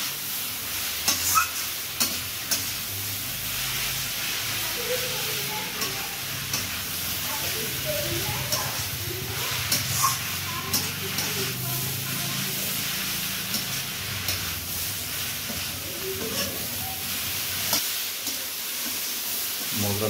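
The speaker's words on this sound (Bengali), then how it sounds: "দিয়ে এবার ভালো করে কষতে হবে, এমনভাবে কষতে হবে মশলাগুলো যেন সব অ্যাবজর্ব হয় বাঁধাকপি আলু সবার মধ্যে" Spices are sautéed with cabbage and potatoes in a pan, producing a steady close sizzle and hiss broken by scraping stirring strokes, with faint voices now and then.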